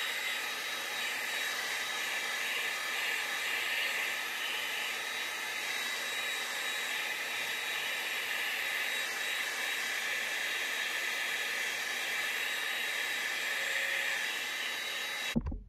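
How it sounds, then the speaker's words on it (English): A hair dryer blows continuously at steady high speed, drying paint on a fishing lure, a loud, even whooshing hiss close by, running without pause until it cuts off at the end. "So let's hit this with the hairdryer and we'll move on to the next color."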